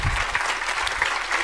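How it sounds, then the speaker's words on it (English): Brief, full applause from the audience at the Nebula Awards ceremony for the best novel nominees, a dense wash of clapping from a large crowd heard alone for a moment. "Can we get a round of applause for all of them, please?"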